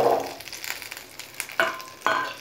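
Small onions go into hot oil in a pan for paneer gravy, crackling and sizzling up close, with brief stirring scrapes and two sharp bursts of frying near the end.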